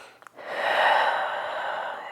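A single long inhale during a vinyasa yoga flow, a steady breathy rush of air swelling over about two seconds, close and fairly clear after a couple of tiny breath catches at the start.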